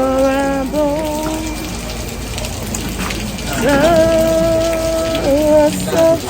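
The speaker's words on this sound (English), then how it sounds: "Oh, rain wants to finish me." Heavy rain pours in a steady, loud hiss around a house, continuous from start to finish, while a voice sings a melodic hymn over it.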